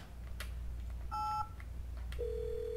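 Telephone keypad in the Thimbleweed Park video game dialed with two short touch-tone beeps, followed by a longer steady tone, heard clearly over a low background hum.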